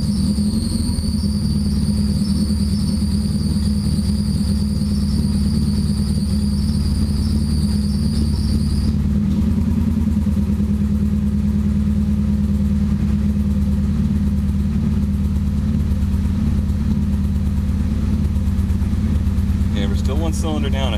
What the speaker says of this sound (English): Yeah, we're still one cylinder down, I think. You're gonna hear it popping through.